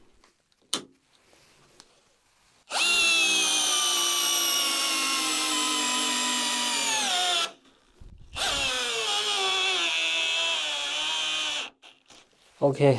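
A Bosch GDR 12V-110 impact driver runs in first gear in two sustained bursts, loud and close, with a steady high whine that drops in pitch near the end of each run. A brief spoken word comes before the bursts.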